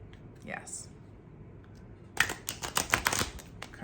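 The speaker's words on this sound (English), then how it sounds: "as you can see, the deck shuffles super smoothly. If you are a person who ripple shuffles, yes." Ripple shuffle of a deck of glossy oracle cards: a quiet pause, then a dense burst of crisp riffling flutters lasting over a second, close and clear, with a faint voice earlier.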